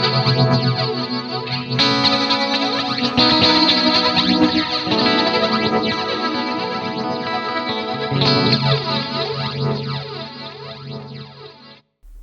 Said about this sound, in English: it's using the modulation, the chorus, the delay, and the reverb in there